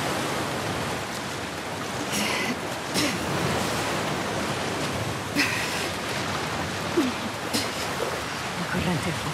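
A strong water current rushes steadily in The Last of Us Part II, a continuous broad wash of flowing water with a few faint splashes and clicks on top.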